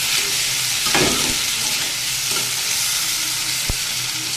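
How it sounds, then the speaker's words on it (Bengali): Bottle gourd stems, potato and pointed gourd frying in a pan, a steady loud sizzle with a few stirring scrapes and one sharp knock near the end. "এটাকে আমি এবার বেশ ভালো করে ভেজে নেব"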